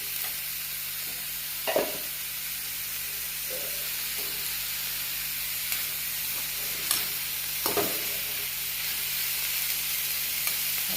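Banana stem being stirred into spice paste in a hot pan, sizzling steadily with a few sharp scraping strokes of the spoon scattered through, close and clear with no talk.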